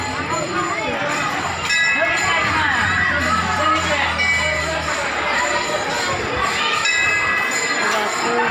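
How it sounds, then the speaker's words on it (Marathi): A dense crowd mills at the Papnashi pilgrimage fair held for Ashadhi Ekadashi, a loud blend of many voices, children shouting and ringing bells, with people talking nearby. "पापनासला गर्दी आहे।"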